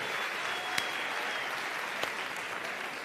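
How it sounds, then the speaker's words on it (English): A theatre awards audience claps in a steady wash of applause, moderately distant and even, with a couple of sharper individual claps standing out. "A round of applause,"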